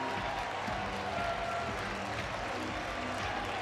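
A baseball stadium crowd at a Miami versus Florida State college game roars and applauds in a steady, dense wash of cheering and clapping that holds constant throughout.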